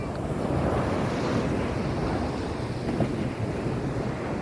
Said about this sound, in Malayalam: തിരമാലകൾ നന്നായി അടിക്കുന്നുണ്ട്